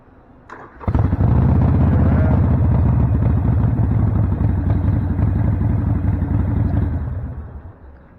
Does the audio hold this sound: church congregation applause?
no